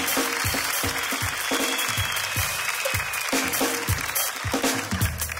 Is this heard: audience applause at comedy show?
yes